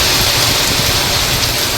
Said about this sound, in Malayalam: ഇവിടെ നല്ല മഴയാണ് കേട്ടോ, സീൻ മഴ, ഒരു രക്ഷയില്ല.